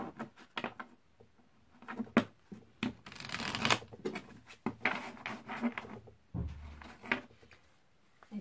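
Tarot cards are shuffled and drawn close at hand, soft papery riffles, flicks and taps coming in uneven bursts, with a longer rustling shuffle in the middle, all faint in a quiet room.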